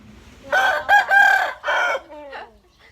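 Chickens and a rooster crow and cluck nearby in a cold Kengtung village setting, with a few loud strained calls in quick succession followed by softer trailing clucks.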